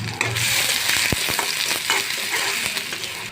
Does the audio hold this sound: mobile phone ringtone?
no